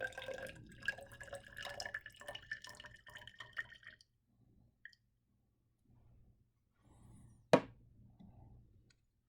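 Water running into a titration flask during a vinegar titration lab, a few seconds of steady liquid pouring and dripping, then quiet, with a brief sharp splash or clink near the end; no talking.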